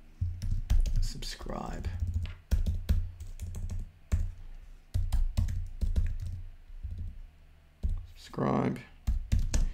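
Bursts of quick clicking keystrokes on a computer keyboard while text is entered on a Shopify landing page, close and crisp, broken up by someone talking between the typing runs.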